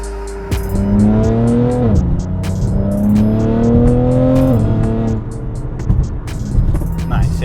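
A BMW G82 M4 accelerating hard on the way to a highway, its engine note climbing loud and near through a series of gear shifts, each shift dropping the pitch before it rises again.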